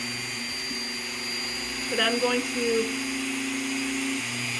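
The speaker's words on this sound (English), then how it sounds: "I'm going to turn the Dremel on about 2/3, and I'm going to start lowering it." A Dremel rotary tool runs at about two-thirds speed with a steady high motor whine as it is lowered onto Lake Michigan beach glass. A brief grinding rises midway, and someone talks over the drone.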